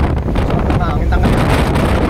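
Loud, steady wind buffeting the microphone in a constant roar, rushing past a moving car on a road through rice fields in Quezon province, Philippines, with faint murmuring voices beneath.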